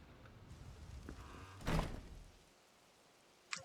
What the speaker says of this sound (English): this door needs opening as well